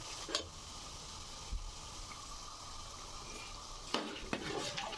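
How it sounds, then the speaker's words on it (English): Nigerian chin-chin dough pieces frying in hot oil, a steady close sizzle broken by a few sharp scraping stir strokes, with no talking. "You allow it to separate inside the oil on its own."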